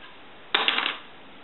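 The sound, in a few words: hard dry pork rind dropped, hollow sound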